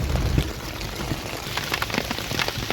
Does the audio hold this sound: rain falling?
yes